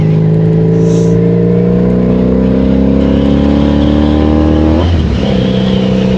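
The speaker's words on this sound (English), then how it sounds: "Yeah, my exhaust is a little bit loud." A loud, droning 1983 Honda Magna V45 750 motorcycle engine with a throaty exhaust, one insert missing, holds steady, its pitch rising slowly before dropping sharply, close and continuous with no speech.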